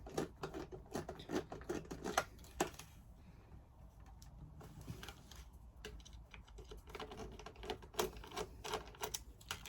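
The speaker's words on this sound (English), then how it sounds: "If we basically just get the crosshead and untighten these," A crosshead screwdriver unscrews the cyclone screws on a V11 vacuum, giving quiet, irregular clicks and ticks in small bursts with pauses between, faint and close.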